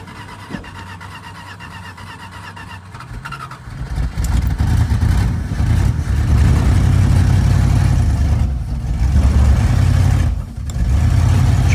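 An old 1983 Dodge D150 Prospector two-wheel-drive truck, parked for 25 years, idles quietly, then its engine catches and runs louder and rougher, with a couple of brief dips and recoveries.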